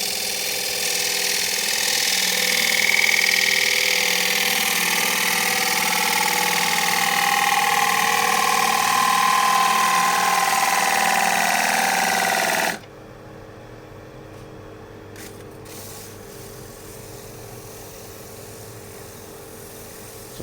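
A small gouge cuts a chestnut wood bowl spinning on a lathe, making a loud, continuous hissing scrape. After about thirteen seconds the cut stops abruptly, leaving only the machine's quieter steady hum.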